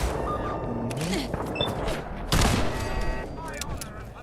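Gunfire in Fallout 4 while fighting robots and a turret, a few sharp shots and a burst over busy game sound effects, with a voice speaking throughout.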